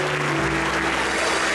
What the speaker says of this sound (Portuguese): E vamos aplaudir a Jesus, meus irmãos, bem forte.